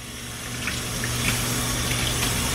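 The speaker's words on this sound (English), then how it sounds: "Some warm water." Warm tap water runs steadily into a sink, a continuous close hiss and splash with a low hum underneath, no voices.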